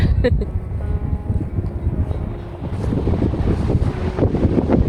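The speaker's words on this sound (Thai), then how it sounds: "ลมแรงมากหนาว" Strong, cold wind buffets the microphone outdoors near the French border during wild mushroom picking, a loud gusty rumble that rises and falls throughout, with faint clicks and handling noise early on.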